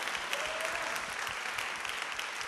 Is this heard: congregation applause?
yes